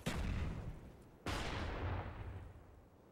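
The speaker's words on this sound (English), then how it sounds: "Watch out, nades, watch out." Two heavy grenade blasts boom in a Call of Duty: Black Ops search-and-destroy match, the second sharp and sudden after the first rumble fades, both deep and loud with no talk over them.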